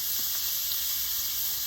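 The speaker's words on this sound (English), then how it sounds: "we're going to let these sizzle on one side" Tournedos Rossini steaks cooking in a hot pan over a real fire give off a steady, even high-pitched sizzle and hiss, close up with no talking.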